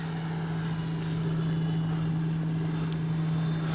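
An FMS Ranger RC model airplane in flight gives a steady, continuous electric motor and propeller whine with an even tone and no pauses or voices.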